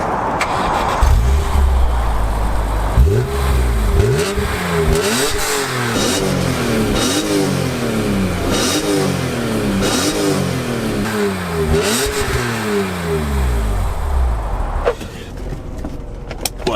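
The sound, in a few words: BMW E46 M3 engine starting and revving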